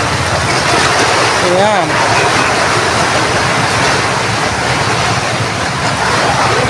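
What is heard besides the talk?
big waves crashing on rocky island shore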